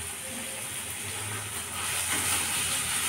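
Chopped tomato hits hot oil in a pan of frying fish masala for bhola fish curry, setting off a steady, close sizzling hiss that swells slightly toward the end.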